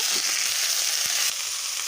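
Chopped pea-shoot greens sizzling in a hot wok just after ginger and chillies were fried until red, a steady loud hiss of frying with faint stirring, no talk.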